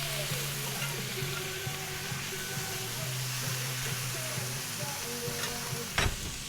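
Food sizzles in a pan on the stove as it cooks down, a steady soft frying hiss with a faint hum beneath and one brief clatter near the end.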